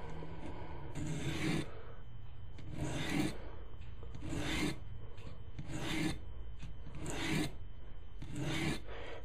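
A kitchen knife is sharpened by hand, with regular rasping strokes along the blade, about seven evenly spaced scrapes close by, each a short gritty rub followed by a pause, and no talking.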